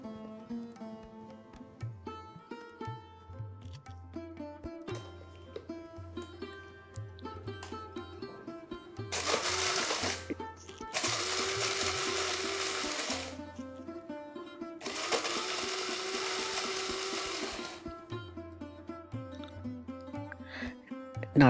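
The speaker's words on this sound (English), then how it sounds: "I am using a coffee grinder, which is really very convenient." A coffee grinder pulverises a sesame seed spice mix in two loud, steady bursts of whirring noise of about three seconds each, laid over a background of soft music.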